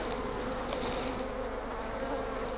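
Honey bees from a swarm hive packed with brood, a dense, steady hum of many insects droning continuously up close, fairly quiet, with no voices.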